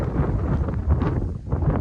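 A big gust of wind buffets an outdoor microphone, a steady, loud, broad rumbling roar with brief surges that continues throughout without any talk.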